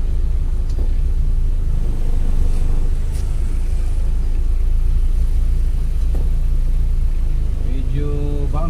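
Dense bumper-to-bumper traffic on a busy highway in Iligan City, a continuous loud rumble of idling and creeping car engines up close, with a person talking over it near the end.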